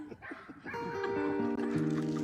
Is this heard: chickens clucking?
no